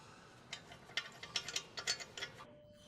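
A ratchet with an 18 mm socket loosens the knuckle-to-strut nut on a 2009-2012 Volkswagen Golf R, a quick run of about ten close, crisp clicks before it stops.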